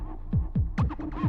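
Distorted techno bass processed through drum bus distortion, a throbbing, pulsing low thump repeating about every quarter second with gritty added noise, heard alone.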